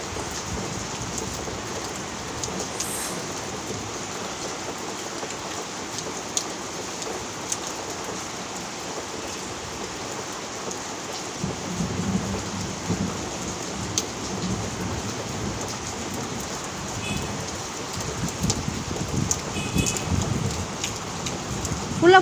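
Heavy rain splashes down steadily and loudly, with low thunder rumbling beneath it and growing stronger in the second half.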